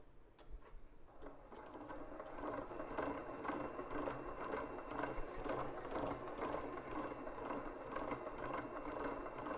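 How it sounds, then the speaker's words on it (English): A stand mixer whips egg tart batter with a silicone cream beater, running as a steady, quiet mechanical whir with fine rapid ticking and clattering throughout, close by and with no talk. "I'm going to zoom in to share with everyone how this stand mixer works"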